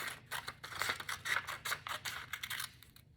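Scissors snipping along drawn lines on paper, a rapid series of short crisp cuts close by, with no talking.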